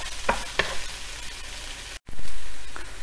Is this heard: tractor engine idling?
no